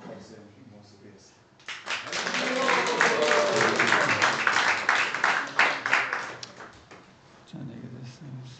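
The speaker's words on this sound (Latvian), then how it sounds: "Lūdzu, sveicam uz saviem aplausiem mūsu viesi." An audience at a Hare Krishna gathering breaks into applause to welcome a guest, swelling quickly into dense clapping that holds for about five seconds before fading, with talking heard briefly before and after.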